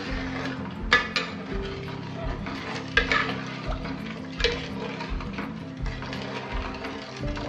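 Amla murabba with cinnamon pieces cooking into a thickening syrup in a pan, stirred continuously: rhythmic spoon scrapes and soft clinks over a low bubbling sizzle, repeating roughly every second, with no one speaking.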